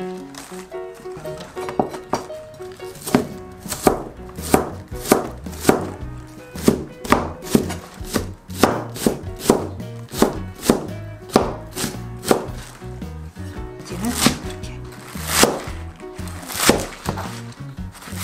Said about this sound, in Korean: 쪽파 300g 통통한 거는 잘게 잘라야 되겠다